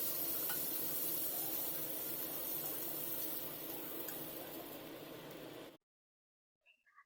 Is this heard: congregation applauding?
no